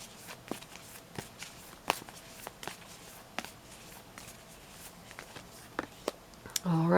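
Tarot cards shuffled by hand in a quiet room ahead of drawing a manifestation card: a run of soft, scattered riffles and taps, fairly close, ending in a louder burst of handling.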